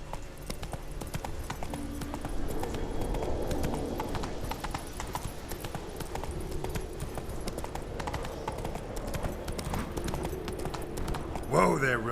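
Roach, a horse in The Witcher 3, runs with rapid, continuous hoofbeats that carry a rumbling game backdrop, and a short whinny-like burst comes near the end.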